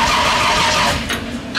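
Street stock race car engine cranks on its first start, a short loud mechanical churning burst lasting about a second before fading.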